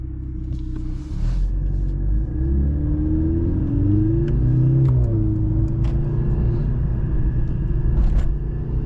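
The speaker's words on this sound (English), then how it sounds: "And the engine exhaust sounds really good." A 2023 Mercedes-AMG C 43 engine and exhaust heard from inside while driving, a steady low rumble with a gentle swell in revs midway, continuous and fairly close throughout.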